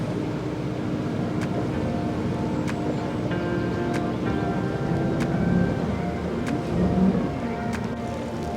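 A motor boat cruises down the River Ant on the Norfolk Broads, its engine giving a steady low drone under wind and water noise, with a few sharp knocks and clicks along the way.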